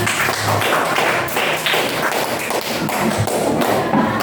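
Classroom applause from a group of students, a dense continuous patter of many hands clapping at steady loudness for several seconds, with no talking over it.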